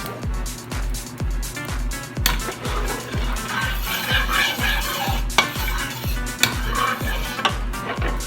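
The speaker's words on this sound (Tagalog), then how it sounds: "unahin natin igisa ang ating luya" Ginger sautéing in a pan for chicken curry sizzles steadily while a utensil scrapes and taps the pan in a fast, regular rhythm, close and fairly loud.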